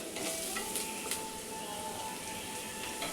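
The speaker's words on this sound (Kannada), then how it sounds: "ನೋಡಿ, ಈರುಳ್ಳಿ ಹಾಕ್ತಿದ್ದೀನಿ." Onions with green chilli and curry leaves fry in a pan for a drumstick leaf and egg dish, giving a steady close sizzle with a few light stirring scrapes.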